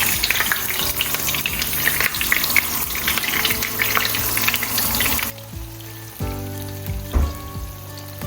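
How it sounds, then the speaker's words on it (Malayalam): Fish sizzles loudly in hot oil with a couple of curry leaves in a home kitchen, a dense crackling hiss that drops abruptly partway through, leaving softer bubbling and stirring clatter. "നമ്മുടെ ലാസ്റ്റ് ഐറ്റം മീൻ പൊരിച്ചത് ഉണ്ടാക്കാൻ പോവാണ്"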